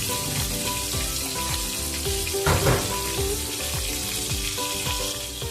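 Crab pieces coated in spices fry in oil, producing a dense, even sizzle with rhythmic spatula scrapes and knocks against the pan, close and fairly loud, without speech.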